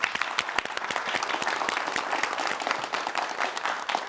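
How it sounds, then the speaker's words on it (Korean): Studio audience applause at a televised Korean science talk show, dense steady clapping from many hands that stays loud and sustained throughout, with no talk over it. "박수로 청해 주십시오."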